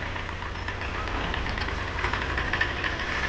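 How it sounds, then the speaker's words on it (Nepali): A scooter engine idles nearby with a continuous, even mechanical hum and no break across the short stretch. "ए स्कुटर होइन स्कुटर ऊ सरले स्कुटर चलाउनु ल्याएको छ"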